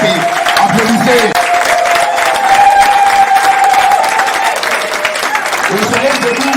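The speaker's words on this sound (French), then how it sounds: "Applaudissez." Sustained crowd applause and cheering at a political party congress in Bolanda fill the space, dense and loud, with voices and a higher-pitched shout or tone running through the clapping.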